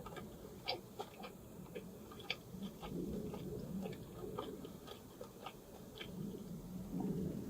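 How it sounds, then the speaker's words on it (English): A banh mi pizza topped with crunchy vegetables is chewed close to the microphone, giving a quiet run of small crisp crunches in an irregular rhythm over soft background noise, with no talking. "The vegetables still have this amazing crunch."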